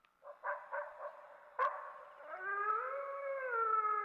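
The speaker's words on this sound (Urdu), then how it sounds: "دور سے کسی کتے کے بھونکنے کی آواز آ" A dog barks several times at a steady pace, then breaks into a long, wavering howl that carries on to the end. A sharp knock cuts in between the barks. The dog sounds some distance away, with no talk over it.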